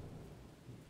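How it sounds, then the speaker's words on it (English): Steady, dense rumbling wash like heavy rain or distant thunder, continuous and fairly faint throughout. "It's raining heavily."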